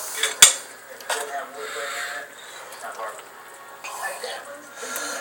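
A pot for a mussel, crab and tilapia seafood soup gives one sharp metallic clank near the start, followed by softer scattered clinks and rattles, faint and close, under a voice.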